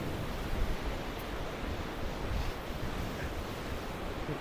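Sea waves wash onto a beach at Jamunasul in Odisha as the tide rises, a steady broadband roar of surf with some wind, continuous and fairly loud with no voices.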